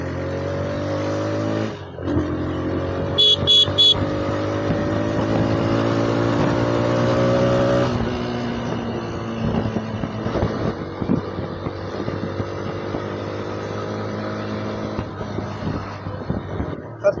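A TVS Raider 125 motorcycle engine in power mode drones steadily while riding, its pitch rising as it accelerates, with wind rushing across the microphone.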